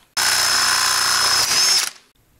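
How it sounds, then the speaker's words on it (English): A power drill with a quarter-inch bit runs loud and steady for close to two seconds, with a slight shift in pitch near the end, then spins down and stops. No one speaks. "The final drill bit is a quarter inch."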